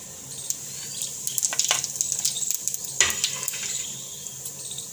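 Cumin seeds hit hot oil in a kadai and fizz with a steady, moderate crackle, scattered pops and bursts standing out over a continuous hiss.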